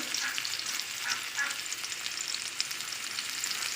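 Boiled pumpkin pieces frying lightly in a pan, a soft continuous sizzle and crackle heard fairly quietly and alone, with faint stirring.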